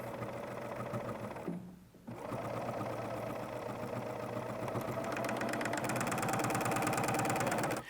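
A serger sewing machine runs continuously while stitching a flatlock hem, its fast, even mechanical whir close and steady, briefly stopping around the two-second mark before resuming at a slightly faster, louder pace.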